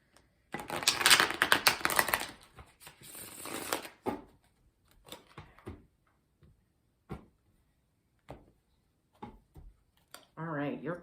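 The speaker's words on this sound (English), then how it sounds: "I'm going to do one more shuffle." Tarot cards being shuffled by hand, a dense riffling flutter for a few seconds followed by scattered soft taps and card snaps, with a voice speaking briefly at the end.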